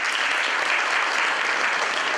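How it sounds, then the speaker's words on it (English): Dense, continuous audience applause at a university green campus event, many hands clapping loudly and evenly with no voices standing out. "Give the man a round of applause."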